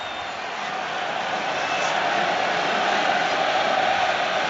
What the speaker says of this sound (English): Crowd roars again.